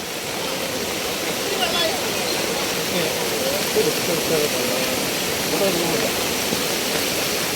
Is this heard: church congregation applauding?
no